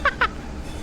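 A horn in the Train Sim World 4 game gives two quick, clipped honks in rapid succession, fairly clear over a low background hum.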